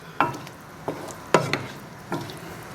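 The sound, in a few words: stirring whole mushrooms frying in a pan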